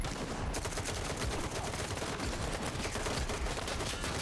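Gunfire in the shooter game S.T.A.L.K.E.R. 2: Heart of Chornobyl, a dense, continuous roar of rapid shots and crackling bursts that stays loud throughout without speech.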